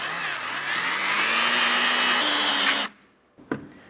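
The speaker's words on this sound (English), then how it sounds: "Now once you've drilled out the center," A power drill with a 13/16 bit boring out a rivet on a 2015-2025 Ford Transit 250 front license plate bracket, a loud rising whine for about three seconds that cuts off, followed by a short clack.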